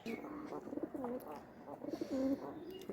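Pigeons kept on a tray during treatment for a cold illness coo in repeated low, rolling phrases, close and fairly steady, with no talk.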